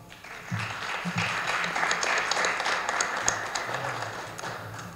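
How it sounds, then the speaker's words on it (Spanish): Audience applause at a university philosophy lecture swells in after a brief pause and holds steady for several seconds, moderately loud with a few sharper individual claps. "pido un fuerte aplauso, por favor"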